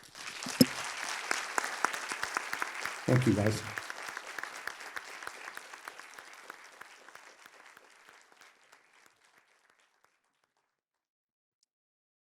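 Lecture audience applauding a Nobel laureate, with sustained clapping that swells, stays steady, then thins and fades to silence over about ten seconds, while a voice briefly speaks near the start and midway.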